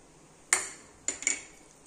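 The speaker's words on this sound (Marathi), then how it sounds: "आणि आता आपण हे एकत्र करून घेऊया।" A spoon clinks against a pan while cardamom powder is stirred into carrot halwa, three bright metallic taps close by over a quiet background.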